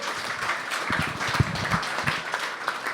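Audience applause for panellists at the close of a panel discussion, a steady wash of many hands clapping with a few louder claps standing out, moderately loud.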